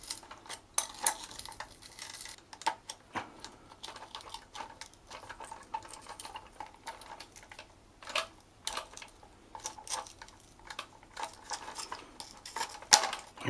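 Crusty deposits are broken off a toilet cistern seal by hand, producing scattered small clicks, cracks and scraping taps at an irregular pace, close and fairly quiet.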